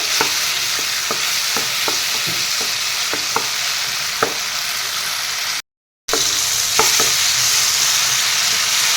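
Tomatoes and grated carrot fry in a pan for a fish and carrot curry, giving a steady broadband sizzle with sharp utensil scrapes and taps. The sizzle cuts out for a moment, then resumes.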